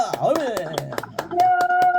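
A church congregation claps along in a steady, rapid rhythm during a worship service, the beats sharp and close beneath a voice and sustained tones.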